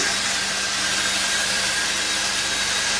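A steady high-pitched motorized whir with a constant low hum beneath, running continuously without pause, from a drill spinning a scrub brush head against a surface during carpet cleaning.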